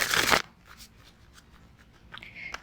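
A deck of Skyrim-themed tarot cards is handled briefly for a three-card spread: a quick papery shuffle at the start, then faint soft flicks and taps of cards being laid out.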